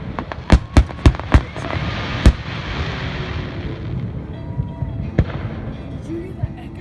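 Fireworks over water, one bursting on a boat, bang in a quick cluster of sharp booms, then a few scattered later blasts echo over a steady crowd murmur and outdoor rumble.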